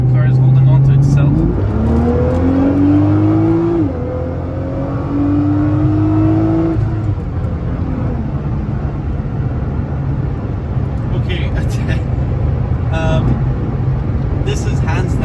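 A Nissan GT-R is driven hard through a corner, its engine note rising and falling through gear changes, with someone talking over the car throughout.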